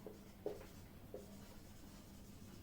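Faint scratches of writing on a board in a quiet room, two short strokes standing out early and then a soft, steady background, no speech.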